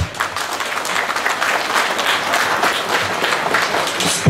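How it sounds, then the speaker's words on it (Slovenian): Audience applause at a volunteer fire brigade's 90th anniversary parade and ceremony in Ihan, greeting the brigade president; steady dense clapping from a crowd fills the whole stretch, swelling slightly near the end. "Torej, en aplavz za predsednika prostovoljnega gasilskega društva IHAN, Saša Žaljeca."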